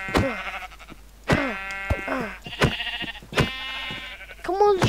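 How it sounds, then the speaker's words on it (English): Sheep in Minecraft bleat again and again in short wavering cries, loud and close, with a voice briefly heard at the end. "Come on, you stupid sheep."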